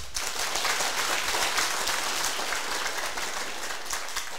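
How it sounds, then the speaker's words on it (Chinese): A crowd at a Taiwanese political lecture claps steadily, a dense, fairly loud wash of applause that holds evenly from start to finish with no talk over it. "大家拍手"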